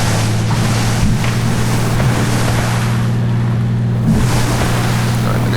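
A seaplane skims the water in a flight simulator game, with a steady engine drone under a constant rushing splash and wind noise, loud and unbroken throughout.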